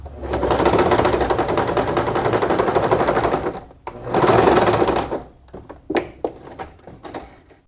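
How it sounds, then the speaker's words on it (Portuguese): A sewing machine stitching a skirt waistband runs in two loud continuous bursts of rapid rhythmic needle clatter, then stops into a few separate clicks and short knocks as the fabric is handled. "Agora eu vou costurar outra parte do cós."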